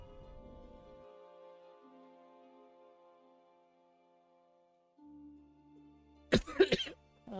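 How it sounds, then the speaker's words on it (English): A person coughs a few times in a quick, close cluster over a quiet, sustained game music backdrop while playing Guild Wars 2. "Oh, sorry, coughing."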